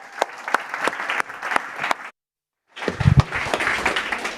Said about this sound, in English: I think Chris deserves a round of applause, by the way.